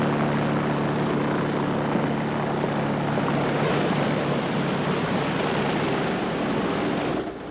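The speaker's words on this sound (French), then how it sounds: "L'hélicoptère a été rappelé par Kramer." A helicopter thunders steadily nearby, its rotor chop and engine roar filling the air without pause.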